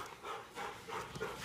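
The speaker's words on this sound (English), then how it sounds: "sorry for the breathing dog in the background" A dog pants steadily nearby, quick rhythmic breaths repeating throughout, fairly quiet with no talking.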